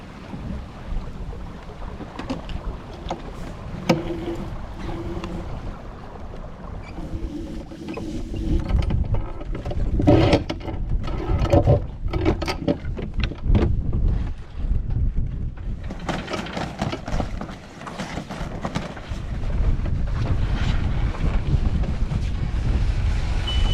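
A 20-foot sailboat motors along with its sails down off the Dengie Peninsula, a steady engine drone mixed with heavy wind buffeting the microphone and gusts that swell and fade throughout.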